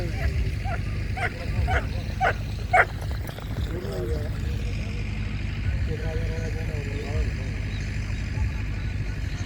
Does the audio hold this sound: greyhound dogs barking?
yes